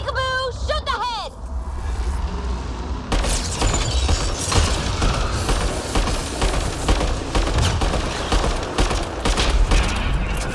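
Rapid bursts of gunfire and weapon blasts from a Mass Effect Andromeda battle against a large creature, loud and continuous for several seconds with chaotic impacts, after a few electronic chirping sounds at the start.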